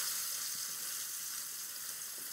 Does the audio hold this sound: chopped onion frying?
yes